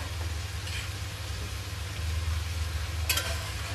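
Gobi manchurian gravy with cooked onions sizzling in a pan as sauces are added, a steady, fairly quiet hiss over a low hum, with a brief scrape of stirring near the end.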